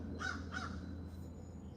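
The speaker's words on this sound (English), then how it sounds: "the crow's agreeing" A crow caws twice outdoors near a porch, two moderately distant calls over steady background hum, followed by faint outdoor ambience with no talk.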